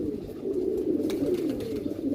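Pigeons of a flying breed coo in a soft, continuous low murmur, fairly close and steady, with no talk over it.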